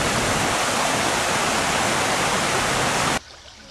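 River water rushes through the arches of a large iron and stone bridge, a loud, even roar of flow that stops abruptly near the end.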